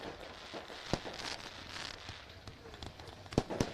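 Fireworks over victory lane at a dirt speedway race night, a few sharp bangs and crackles standing out against steady crowd and track noise, with faint talk underneath.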